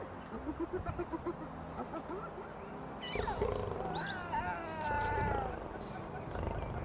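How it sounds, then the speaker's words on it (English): Gaunt lion cubs mewl softly against their mothers, thin wavering cries rising and falling in short bursts over a low, rumbling background with scattered rustles. "The four gaunt cubs press against their mothers, mewling softly."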